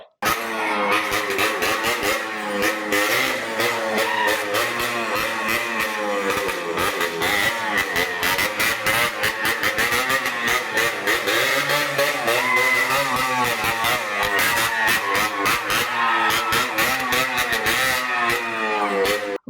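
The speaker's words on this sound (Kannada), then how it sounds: "ಬೈಕ್ಗಳ ಸೈಲೆನ್ಸರ್ ತೆಗೆದು ಕರ್ಕಶ ಶಬ್ದ ಮಾಡುತ್ತಾ ಕೆಲ ಯುವಕರು ವೇಗವಾಗಿ ಬೈಕ್ ಓಡಿಸಿದ್ರೆ" Loud, harsh motorbike engines with silencers removed revving continuously during a Diwali festival, a raw rattling roar that rises and falls close by.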